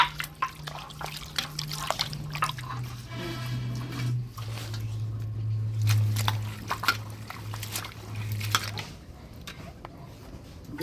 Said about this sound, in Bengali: এবার পেঁয়াজ রসুন বাইটে নিই ধুইয়া দিই ভালো করে